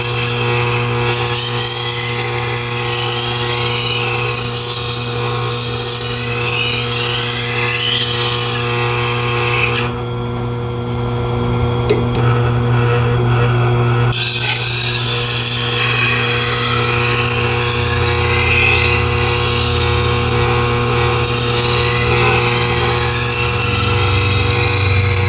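Steady loud grinding whir of a blade being sharpened on a Tormek T8 wet sharpener with a 600-grit CBN wheel, pausing briefly midway before the continuous hum resumes.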